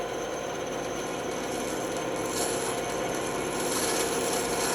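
A band saw shaves down a piece of wood at angles, giving a steady, continuous close-up rasping and whirring that stays even in loudness throughout, with no talking.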